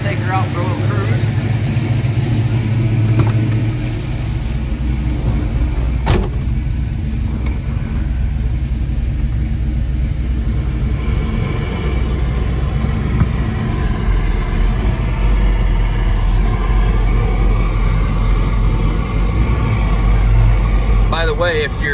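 A 1969 Oldsmobile Cutlass S with an LS engine swap drives on a cruise, its deep, steady engine rumble loud and continuous throughout, with a slight dip and brief transient early on.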